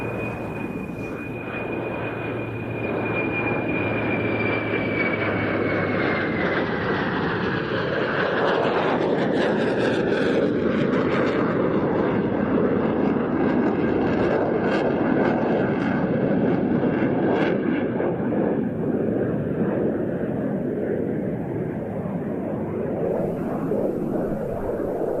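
An FA-18 Hornet jet flying a display at an air show, its loud broadband engine roar filling the air steadily and rising with a descending whine early on, no voices.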